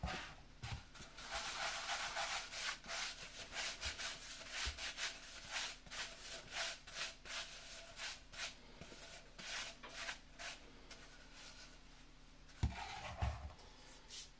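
Flour is rubbed by hand into the cracks of a bread banneton basket, a close, soft scratchy rubbing in quick rhythmic strokes, ending with a couple of light knocks, no talking.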